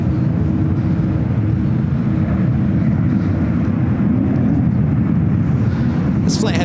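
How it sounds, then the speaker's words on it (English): A United Boeing 787-9 Dreamliner heads out for departure at San Francisco airport, bound for Singapore, giving a steady, loud broadband engine roar that holds constant throughout, with a brief brighter burst near the end. "There's a United Dreamliner now heading out to the 28s."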